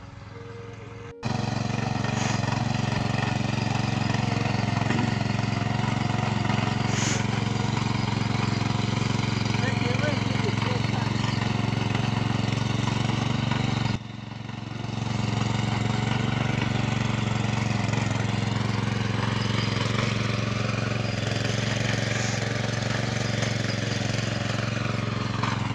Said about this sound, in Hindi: एक बार ट्रैक्टर चलाने की कोशिश करती हूँ।